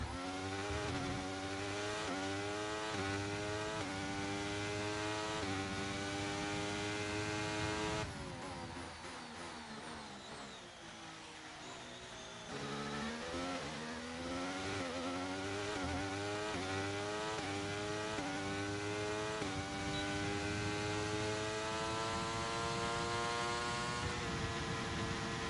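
A Formula 1 car engine in the F1 23 racing game, a high-pitched wailing whine that climbs and drops through repeated gear shifts, dipping briefly before revving up again, steady and close.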